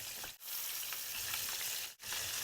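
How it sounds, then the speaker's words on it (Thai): Pork neck fries in hot oil over medium heat, making a continuous, fairly quiet sizzle with two brief dips where the hissing momentarily fades, and no talking. "พอน้ำมันร้อนได้ที่ก็ใส่หมูครับ"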